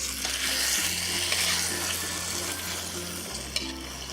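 Black pepper chicken with squash and mushrooms sizzling and being tossed in a hot pan, a steady close frying hiss with scraping stir sounds and a low hum underneath.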